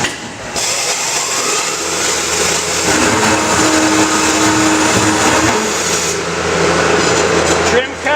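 A Scotchman CPO 350 HFA CNC cold saw running at 130 RPM through a trim cut in metal stock, a loud steady whine and grinding that holds evenly throughout.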